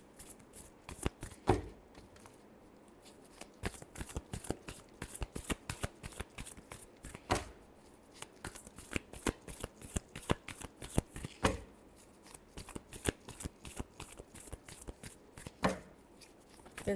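Tarot cards being shuffled by hand, close and crisp, repeated riffling bursts with short pauses between rounds, no talk.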